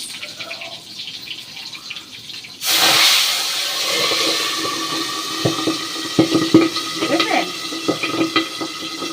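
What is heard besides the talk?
pabda fish frying and spattering in oil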